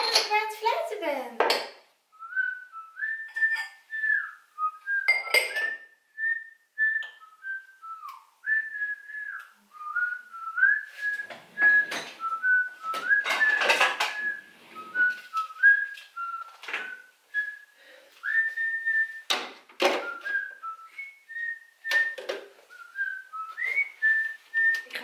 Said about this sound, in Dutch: Ga je zo mooi fluiten, Polly?